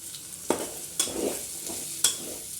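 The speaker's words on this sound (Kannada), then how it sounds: "ಇವಾಗ ನೋಡಿ, ಆನಿಯನ್ನು ಫ್ರೈ ಆಗ್ತಾಯಿದೆ." Chopped onions fry in ghee in a pan with a soft, steady sizzle, interrupted by a few sharp clinks and scrapes of a spoon stirring them. The sounds are close and fairly quiet, and nobody speaks.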